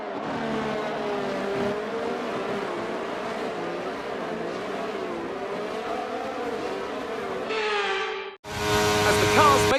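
F1 cars in the F1 23 racing game rolling around the Azerbaijan circuit on the formation lap, a steady droning engine tone with gentle pitch wavering, then a brief cut to a louder, brighter engine roar near the end.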